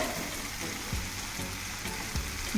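Spices sizzle in hot oil in a pan for vendhaya kuzhambu, a steady close frying hiss with a few soft stirring scrapes.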